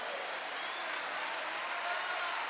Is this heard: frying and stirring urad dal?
no